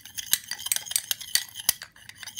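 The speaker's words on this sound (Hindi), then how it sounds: "और इन सब चीज़ों को हम इतना मिक्स करेंगे कि ये" Ingredients for a homemade glycerin skin lotion are stirred in a small bowl, making quick, irregular scraping clinks of a utensil against the container. The clinks are close and fairly quiet, with no talking.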